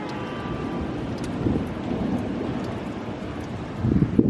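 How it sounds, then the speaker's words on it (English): Thunder in a storm rumbles low and distant beneath steady rain and wind, with a louder roll building near the end. "listen to that thunder"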